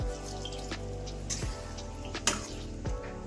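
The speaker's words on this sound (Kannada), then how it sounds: "ಹುಣಸೆಹಣ್ಣು ಕಿವುಚಿಟ್ಕೊಂಡಿದ್ದೀನಿ ನೀರು, ಅದನ್ನು ಹಾಕೊತಾ ಇದ್ದೀನಿ." Tamarind water pours into brinjal curry in a pan, giving a close, wet splashing and dripping sound with a few sharper knocks, short and uneven over a low steady hum.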